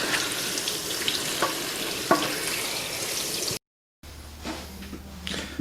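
Water from a hose sprays and splashes steadily over a dry car air filter, a continuous hissing rinse, briefly cut off, then resuming as a quieter trickling flow.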